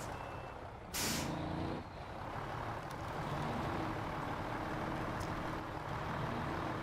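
Truck in the Snowrunner video game, set in Alaska, rumbles under a steady engine drone while a sharp hiss of the air brakes bursts out once, followed by faint intermittent beeps.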